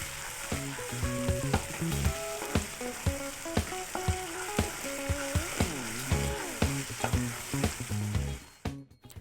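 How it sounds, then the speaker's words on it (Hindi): Spice powders (coriander, turmeric and red chilli) are stirred into sizzling fish curry masala in a pan, making a loud continuous fry. Rhythmic scraping strokes of the stirring utensil repeat about every half second, with no speech. "अब इसमें धनिया पाउडर, हल्दी पाउडर और लाल मिर्च पाउडर को ऐड कर देते हैं। इन सबको अच्छी तरह से मिक्स कर देते हैं।"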